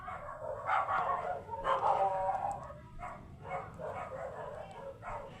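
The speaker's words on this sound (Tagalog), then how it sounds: "ang ingay ng aso" A dog barks repeatedly in short bursts at a moderate distance, with uneven gaps between barks and a faint background hum.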